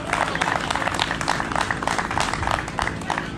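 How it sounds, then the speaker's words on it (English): Audience applause at a bass fishing seminar, dense steady clapping from a crowd filling the room without pause. "Let's give him a big round of applause for everything One Tribe Foundation does."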